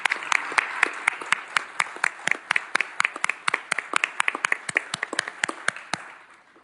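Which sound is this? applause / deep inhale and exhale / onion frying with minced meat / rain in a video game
applause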